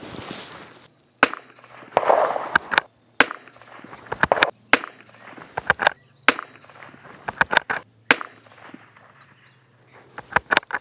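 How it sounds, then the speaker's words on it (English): Rifle shots from a rimfire bolt-action fired outdoors with Lapua Center-X ammunition at a 100-yard target, a steady series of sharp, loud cracks spaced a second or so apart with quiet gaps and faint background noise. "now the Lapua Center X at 100 yards"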